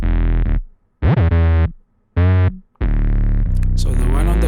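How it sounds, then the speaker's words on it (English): Two stacked 808 bass notes in FL Studio, one heavily distorted and one full of low end, play as four loud booming hits with pitch glides and abrupt gaps, gritty and saturated. "these are two differently sounding 808s stacked together"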